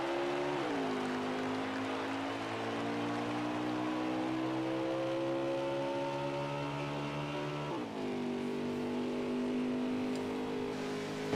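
Stock-style race cars lapping in a sim racing game at Auto Club Speedway, a sustained droning engine roar that climbs steadily in pitch, drops sharply near the end, then climbs again.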